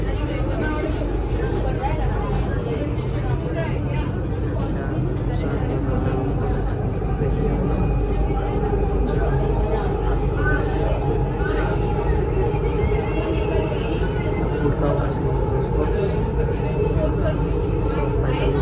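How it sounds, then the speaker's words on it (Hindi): A Delhi Metro train rumbles steadily inside a station, with crowd chatter and a continuous high whine running throughout. "हमारी मेट्रो आ गई"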